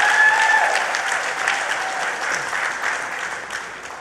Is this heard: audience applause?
yes